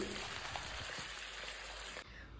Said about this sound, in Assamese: তাৰ পিছতে মাংসখিনি দি অকনমান ভাজি ললো